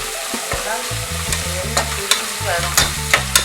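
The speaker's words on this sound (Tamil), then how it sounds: "நல்லா வதக்கணும் வெங்காயம் நல்லா வதங்கினா அந்த பிரியாணி டேஸ்ட் வரும்" Onions sautéing in a pan for mushroom biryani give a steady close sizzle, broken by regular scraping clicks of a spatula stirring through them; no voices.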